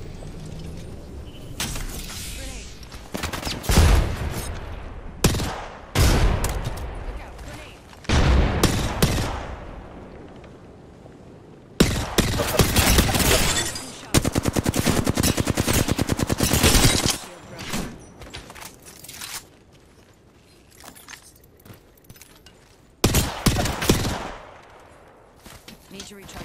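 Rapid bursts of automatic gunfire in the battle royale game Apex Legends, with loud clustered volleys broken by short pauses and single shots, some gunfire plainly near and some farther off, and a voice speaking between the bursts.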